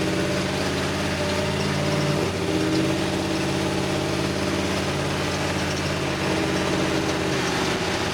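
An LS-swapped Chevrolet C10 squarebody pickup idles steadily and up close with a low, rumbling drone that surges slightly, parked in a neighborhood.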